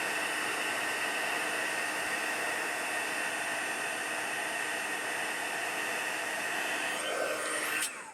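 A heat tool blows hot air onto a card for heat embossing, giving a loud, steady, unbroken whoosh that cuts off abruptly at the end.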